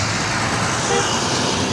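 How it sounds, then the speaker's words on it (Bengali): Buses and trucks rush along the road at the Madhukhali railway crossing, making a dense, loud traffic roar with engine drone, and a voice speaks over it. "এখানে বাস, ট্রাক যার যার গতিতে ছুটে যাচ্ছে"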